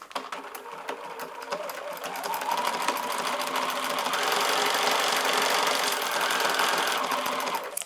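A sewing machine stitches a buttonhole stitch with an open foot, a steady fast whirring chatter that rises slightly in speed and stays even for several seconds.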